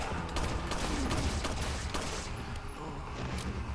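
Rapid pistol fire in Resident Evil 4, a dense run of quick shots stacked over busy game noise at steady loudness, with no pauses throughout.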